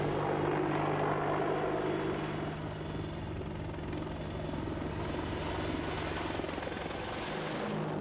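A Boeing AH-64 Apache helicopter flies close by with a steady, loud rotor and turbine roar that fills the whole clip, with no speech over it.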